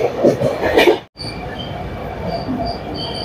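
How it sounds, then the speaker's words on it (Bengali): Deccan Queen Express train pulling into Lonavala station, a continuous rumble of rolling wheels and station noise, with people talking nearby before a brief drop-out. "ট্রেন এসে পৌঁছেছে লোনাভলা স্টেশনে"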